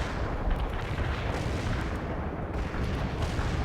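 An artillery barrage in the real-time strategy game World in Conflict: a dense, continuous roll of heavy booms and blasts blurs into a loud, rumbling wall of fire, with no voices over it.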